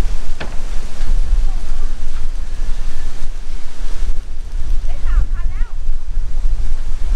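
Steady cool wind rushing across the microphone at Bang Saen beach, Thailand, with surf murmuring underneath, continuous and fairly loud, with a few faint voices in the background.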